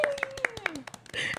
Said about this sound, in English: Please give a round of applause for Marie Basilio and Jenny Pereira.